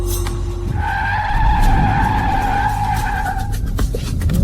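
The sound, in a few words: car braking to a stop with skidding tires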